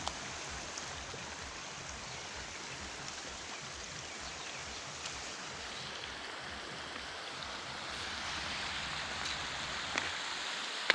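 Steady rushing water from a flowing waterfall stream in a Jharkhand forest, a soft, even wash of broadband hiss that swells slightly louder near the end, with no voices.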